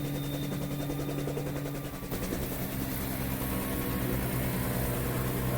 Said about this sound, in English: Joe was there in this beautiful Bell 47 helicopter